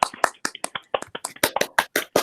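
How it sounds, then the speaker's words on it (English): Class applause after a student presentation, a brief burst of irregular claps from a few people, sharp and close, lasting about two seconds. "Yay, round of applause for Alexis"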